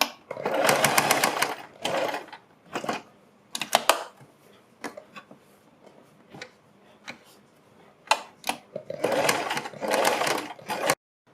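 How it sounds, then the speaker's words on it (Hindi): A sewing machine stitches a neck design on a garment in bursts of rapid mechanical clatter, with short taps and pauses between runs, loud and close with no voices. "इसके बाद हम इसके ऊपर भी इसी तरह से थोड़ा आराम से सिलाई लगाएंगे ताकि इसमें सफाई आए"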